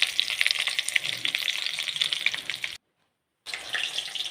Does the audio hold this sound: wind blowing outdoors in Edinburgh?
no